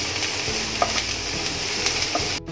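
Onions soften in oil under a lid in a pan for Maharashtrian vangyache bharit, giving a muffled, even sizzle with a few soft clicks and a short cut near the end, no talk.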